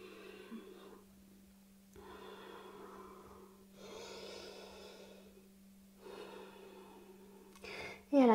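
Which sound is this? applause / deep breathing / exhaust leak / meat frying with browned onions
deep breathing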